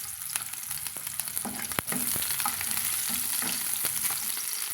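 Chopped shallots hit hot oil with spluttered mustard seeds in a pan, giving a dense, close crackling sizzle that swells louder partway through, with scattered clinks and scrapes of stirring.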